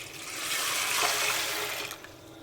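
Water pours in a steady, rushing stream onto half a kilo of sago in a large pot for soaking, swelling to full strength and then tapering off near the end.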